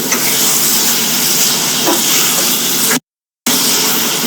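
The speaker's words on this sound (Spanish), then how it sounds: "Es importante que ustedes vayan revolviendo continuamente para que la cebolla no se queme." Chopped onion with salt and sugar sizzles steadily in a pot for onion soup, a dense, even frying hiss with faint stirring scrapes, cut off briefly before the sizzle returns.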